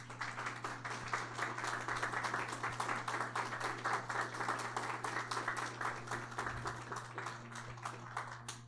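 A church congregation applauding, an energetic rhythmic clapping from many hands, fairly distant in a reverberant hall over a steady low hum, continuing for several seconds.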